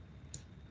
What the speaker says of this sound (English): just place your mouse pointer there and click